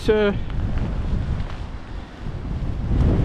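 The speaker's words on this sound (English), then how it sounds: "it's very windy as well, so it blows about the place" Low, rumbling wind buffets the microphone continuously in the Yorkshire Dales, with a brief voice at the very start and a short sound at the end.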